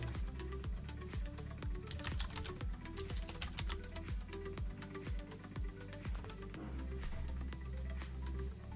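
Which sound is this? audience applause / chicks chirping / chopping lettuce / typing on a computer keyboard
typing on a computer keyboard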